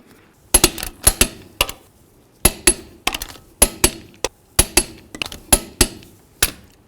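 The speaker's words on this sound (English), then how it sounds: "get the wheel on the ground, and then torque it to 100 foot-pounds" A torque wrench tightens lug nuts on a Chevy S-10 front wheel to 100 foot-pounds, giving sharp, close metallic clicks in quick irregular bursts separated by brief pauses, with no talking.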